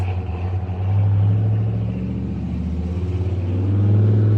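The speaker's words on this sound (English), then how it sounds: "my husband's leaving in our Camaro" A Chevrolet Camaro, kept by its owner for decades, pulls away on a Missouri property, its deep engine rumble rising and then easing as it moves off, loud and steady with a swell toward the end.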